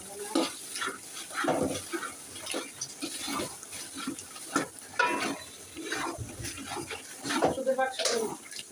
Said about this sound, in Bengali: এবার মাংসটা কেটে দিয়ে রাখা মাংস দিয়ে দিচ্ছি